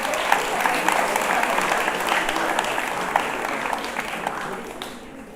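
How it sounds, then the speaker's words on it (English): Applause from a school audience, a dense wash of many hands clapping steadily, fading toward the end. "Let's clap our hands for everybody that got the answer correct."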